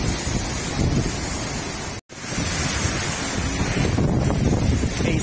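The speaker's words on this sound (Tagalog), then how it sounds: "Napakalakas po talaga yung bagyo" Strong typhoon wind batters Sanchez Mira, Cagayan in a steady, loud roar with gusting rumble and hiss that continues throughout, broken by one brief dropout near the middle.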